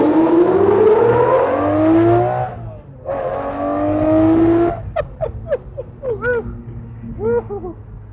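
Lamborghini Murcielago SV with a 6-speed manual accelerating hard, its engine howling loudly upward through two long pulls, then a series of sharp rising revs and blips as gears change, with brief voices in the car.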